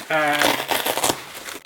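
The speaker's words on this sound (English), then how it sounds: "they have these really cool little dividers, which I'll just take this out and show you" Dividers are pulled out of a Peak Design camera bag, a short burst of close crinkling and rustling fabric right after a brief voiced sound.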